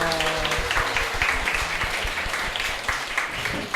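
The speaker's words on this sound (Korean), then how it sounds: "갈수록 박수가 커지니까 좋네요." Audience applause at a live public radio broadcast recording, a steady wash of many hands clapping throughout with faint voices and murmurs mixed underneath.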